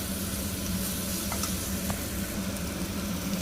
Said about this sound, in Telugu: ఇలా ఒక 1 స్పూన్ కారం వేసుకొని బాగా కలుపుకోవాలి